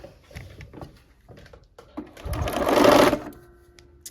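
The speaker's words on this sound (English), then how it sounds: "we are at the machine again, and we're going to get started sewing those strips together" A sewing machine stitches quilt strips together with a quarter-inch seam, a short run of rapid mechanical whirring that swells briefly after some handling clicks and faint shuffling.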